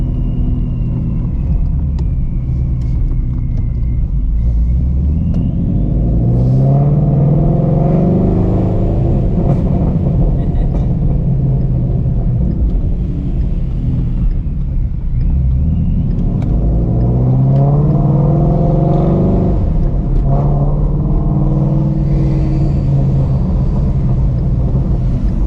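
A supercharged Shelby GT350 with stock clutch and transmission revs loudly and continuously, its engine note rising and falling in two long sweeps over a heavy rumble, close and alone.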